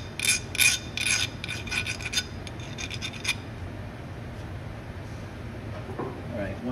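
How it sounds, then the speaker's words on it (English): A metal workpiece being hand filed for a Tormach 8L lathe collet, a quick series of rasping strokes at the start that gives way to quieter scraping and faint handling noise, with no talk. "I'm just going to take a hand file."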